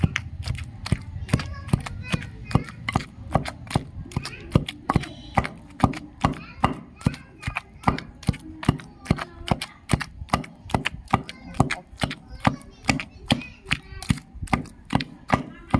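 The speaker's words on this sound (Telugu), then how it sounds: "కొంచెం కొంచెంగా గోంగూర వేసుకొని దంచుకోవాలన్నమాట ఇలా కొంచెం కొంచెం వేసుకొని మెల్లగా దంచుకోవాలి" Gongura leaves being pounded little by little in a stone mortar for chutney, a steady run of sharp, close thuds repeating about once a second throughout, with no talk.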